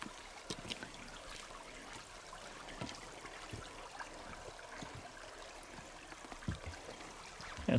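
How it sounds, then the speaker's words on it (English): A spring-fed forest creek trickles and burbles quietly and steadily, faint flowing water with small splashes and no talk over it. "this is a spring-fed creek"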